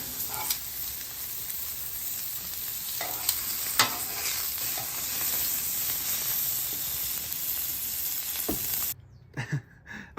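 Thick pork chops sizzle and fry steadily on a Blackstone griddle under a cover, a continuous bright hiss with occasional pops and scrapes, then the hiss cuts off near the end, leaving faint clatter.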